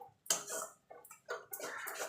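A rinsed bowl clinks against a cooking pan as water is poured in during an egg and spinach curry, several short knocks and splashes close by.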